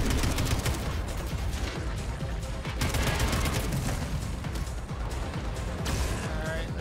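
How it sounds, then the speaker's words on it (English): Sustained gunfire in the video game Atomic Heart during a boss fight against Dewdrop, rapid loud shots and bursts rattling continuously with crashing impacts, a voice occasionally under the barrage. "You're shooting close."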